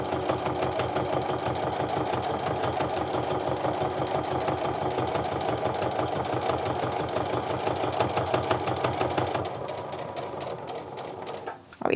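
A sewing machine stitches a canvas and cork wristlet in a steady, fast, continuous run of close mechanical clatter, slowing briefly near the end before stopping.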